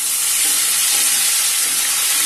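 Ginger garlic paste with cinnamon, bay leaf and dried red chillies sizzles steadily in hot oil in an ALPXEL frypan, a loud continuous hissing fry.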